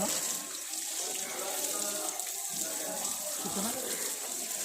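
Steady running water pouring, continuous and fairly close, with faint voices in the background, during a family head-shaving ritual at a temple.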